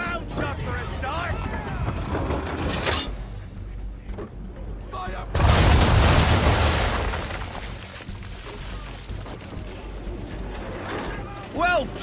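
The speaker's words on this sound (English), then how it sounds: "Bring around broadside, and when all guns are on target, call fire." A ship's broadside of round shot in Assassin's Creed 3, a loud rumbling volley of cannon booms in the middle, framed by creaking sea ambience and someone speaking before it.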